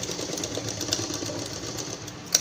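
A sewing machine stitches a cloth purse, a steady rapid mechanical whirring with a fine rhythmic ticking, close and moderately loud throughout.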